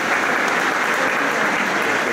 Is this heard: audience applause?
yes